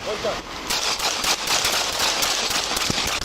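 Gunfire during a police confrontation at a school-area dashcam scene: a rapid series of sharp cracking shots over several seconds, loud and close, with shouting voices mixed in.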